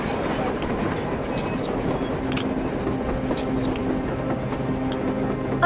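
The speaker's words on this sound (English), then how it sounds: "A train! A damn train on the surface!" In the Metro Exodus video game, a train approaches on the surface as a steady, dense rumble with a faint clatter. It fills the whole stretch evenly, with no speech heard.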